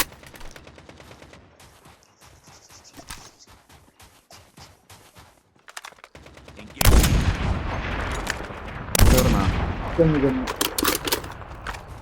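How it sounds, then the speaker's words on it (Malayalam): Sniper rifle shots in a Call of Duty ranked battle royale match come as sharp, loud bursts of gunfire after a quieter stretch, with several further cracks following. Players talk over the game audio. "എടാ, നീ സ്നൈപ്പറിന്റെ സൗണ്ട് കേട്ടാ?"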